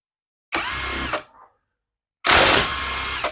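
Two loud bursts of a Bosch GDS18V-350 cordless impact wrench motor whirring, the first about a second long, the second longer, with a brief mechanical rattle between them.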